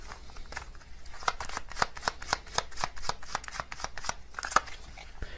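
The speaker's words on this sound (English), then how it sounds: "I'm going to get another card from this deck as well." A tarot deck is shuffled and cards are drawn in a series of close, crisp flicks and slaps at an uneven pace, heard without talk.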